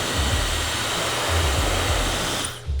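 A Dyson Supersonic hair dryer runs close by with a loud, steady airy whir, then cuts off just before the end.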